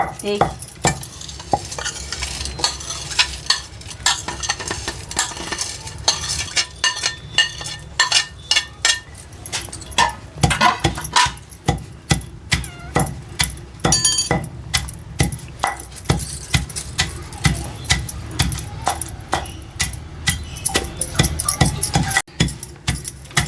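Dried shrimp shells and chili powder pounded in a mortar, with steady repeated thuds and grinding scrapes close by at an even rhythm, and no talk over them.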